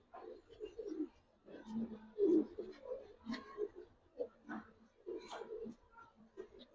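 Silver and jabra pigeons coo softly in a series of low, repeated burbling calls at close range, in short uneven bursts with faint background noise.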